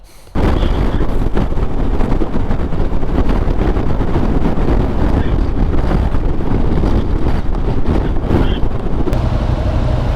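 Strong wind buffets the microphone in windy, wet weather on a motorcycle trip, a loud continuous roar and rumble that persists throughout with no voices.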